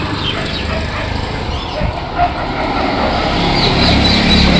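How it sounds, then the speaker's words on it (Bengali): Several dogs bark and yip outdoors at some distance, mixed into a constant wash of background noise and passing traffic, with the barking fairly faint and intermittent. "বাইরে এত কুকুর ডাকাটা কি করছে কেন?"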